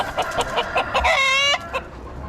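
Roosters at an Amish animal auction give a series of close, loud clucks, then a short strained crow, followed by a few more clucks. No one speaks.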